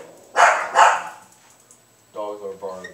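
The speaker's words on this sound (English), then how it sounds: "Dogs are barking." Dogs barking indoors through an open door, two loud, close barks in quick succession, then a pause and a person talking.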